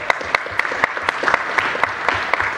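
Audience at a speed debate during the AusCERT 2014 security conference breaks into sustained applause, dense clapping with sharper individual claps standing out throughout.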